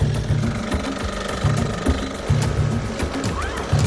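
A motorized wheelsurf monowheel engine runs close and loud, a rough, rapidly pulsing small-engine chatter that keeps going without a break, with faint wind and rattle over it.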